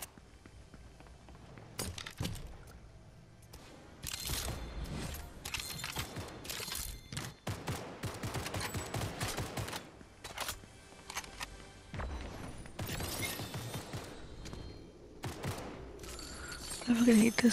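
Gunfire in a video game, bursts of rapid shots in clusters with mechanical clicks and footsteps between them, while people talk over the action.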